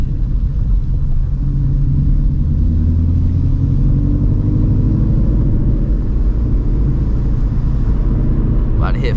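Shelby GT350 engine pulling hard while driving through the city at night, a loud, close, deep rumble that rises steadily in pitch as the car accelerates.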